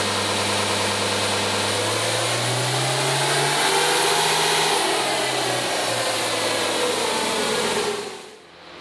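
A 2006 diesel pulling truck with a single-turbo VP44 setup makes a dyno run, its engine roaring loud and steady as the pitch climbs, then cutting off abruptly near the end.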